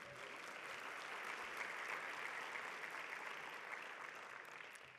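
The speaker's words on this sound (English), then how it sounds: "Give them a round of applause." Conference audience applauding session partners at a national business conference, a dense, sustained wash of clapping from a large crowd, fairly distant and even throughout, with no talking over it.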